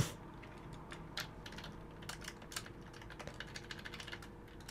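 Quick, light keystrokes clatter on a computer keyboard while a save name is entered in the game The Alphamatic, in irregular bursts of close, moderately quiet clicks with no talking.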